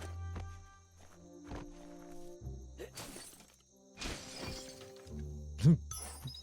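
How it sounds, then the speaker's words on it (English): Wooden boxes smash and shatter in the Biomutant video game, two loud crunching breaks with splintering debris, set among game footsteps, clicks and soft tonal music. "You shouldn't worry about smashing up the box."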